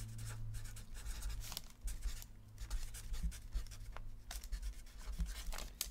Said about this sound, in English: So you're going to write down your petition like this.